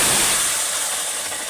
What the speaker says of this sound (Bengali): এবার আমি টকটাকে ঢেলে দেব।